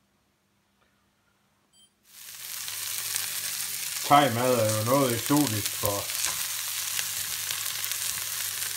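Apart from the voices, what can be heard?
broccoli and aubergine frying in pan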